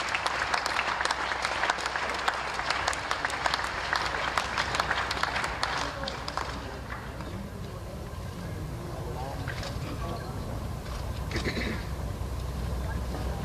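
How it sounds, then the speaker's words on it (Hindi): Applause from a public gathering in Madhya Pradesh welcomes Nitin, dense clapping for about six seconds before fading into crowd murmur and distant noise. "तालियां बजा के स्वागत कीजिए, नितिन जी को बुलाइए"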